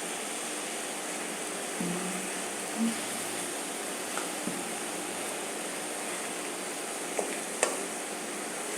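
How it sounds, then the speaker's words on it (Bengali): Small mola fish cooking in a pan, a faint, even sizzle with a few light stirring knocks and scrapes, heard alone at low volume. "আমি গুঁড়া মাছটাকে একটু নাড়া দিয়ে দেব"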